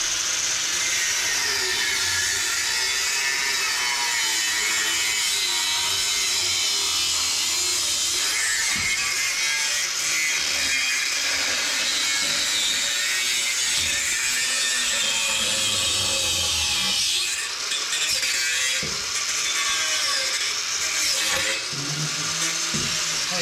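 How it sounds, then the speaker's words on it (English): Cutoff wheel grinding through metal during an engine swap on a 1964 AMC wagon, a loud continuous high-pitched whine and rasp that holds steadily for over twenty seconds with slight dips as the cut progresses. "You can hand me the cutoff wheel."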